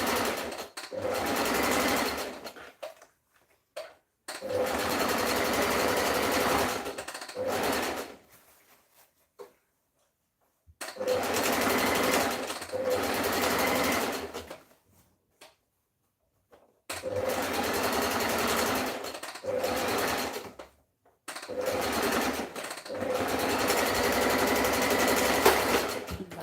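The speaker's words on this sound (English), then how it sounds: "Back stitch when you get to the end." A sewing machine stitching a dress runs in five long bursts separated by brief pauses, a steady close mechanical whir with clicks at the stops and starts, no talk.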